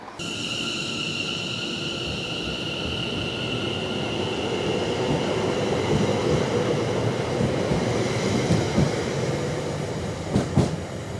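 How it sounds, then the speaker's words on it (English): A train departing a station on the Sunshine Coast Line toward Clacton-on-Sea rumbles steadily with rolling wheel noise and a faint high tonal whine, moving along the tracks before a few sharp clanks near the end. "we've just seen that train to Clacton-on-Sea go out"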